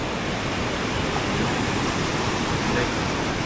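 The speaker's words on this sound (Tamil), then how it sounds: "இங்கே விழுந்து அந்த வாட்டர் ஃபால்ஸாக வருது" The Silver Cascade waterfall in Australia gives a steady, dense roar of falling water, heard up close and unbroken throughout.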